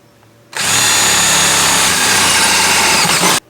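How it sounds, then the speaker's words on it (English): A power drill with a 1/4 inch bit starts abruptly and whines loudly and steadily for about three seconds while drilling a hole, then cuts off sharply. "now I'm going to drill the full-size hole with my 1/4 inch drill bit here."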